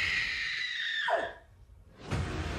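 A sustained high-pitched scream slides downward and breaks off, followed by a brief quieter gap and then a burst of rough noise, fairly loud and close.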